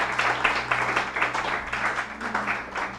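Church congregation applauding together during a Spanish-language sermon, a dense steady wash of many hands clapping at moderate volume with low organ-like hum beneath, continuing throughout.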